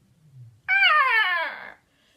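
A human voice imitates a dragon, a single rasping, wavering growl-roar that slides downward over about a second, close and fairly loud after a faint murmur.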